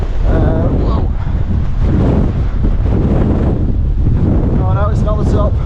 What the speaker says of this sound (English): It's massively windy again.